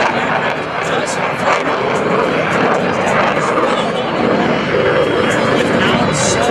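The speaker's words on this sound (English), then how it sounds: "listen for the precise power changes the pilot makes as his aircraft is expertly guided onto the landing spot at show center" An F/A-18C Hornet on landing approach at an air show, its jet engine roaring loudly and steadily throughout with slight swells in power, close and continuous over crowd and wind noise.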